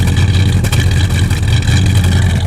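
A 350 Chevy engine running through a single 2.5-inch exhaust, with a steady loud low rumble and throaty drone throughout, revving slightly with no pauses.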